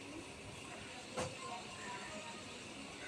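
Onions fry with sugar in a pan, giving a constant, even hiss of sizzling oil with one brief scrape or stir partway through.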